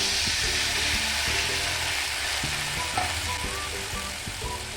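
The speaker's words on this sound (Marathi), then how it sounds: "त्यानंतर पाऊण ग्लास पाणी त्या फोडणीमध्ये घालायचे" Water poured into hot oil tempering with cumin, asafoetida, turmeric and red chilli powder, giving a loud continuous sizzle that slowly fades, with faint clinks.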